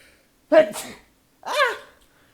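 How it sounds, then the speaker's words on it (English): A person sneezes twice up close, a sharp gasping burst followed by a second, longer sneeze about a second later, in an otherwise quiet room. "Oh no, I need to sneeze."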